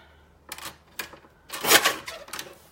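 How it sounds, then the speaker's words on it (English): Paper trimmer and scissors cutting out paper words for a handmade card, heard as a few sharp close snips and slicing strokes in quick bursts separated by short pauses, with no talk heard. "I just cut the straight lines with the trimmer and then I go along with my scissors and go around them"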